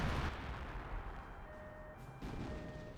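A low, rumbling explosion from a Company of Heroes 1 battle, moderately distant and muffled, with a brief boom followed by fading rumble and faint battlefield noise.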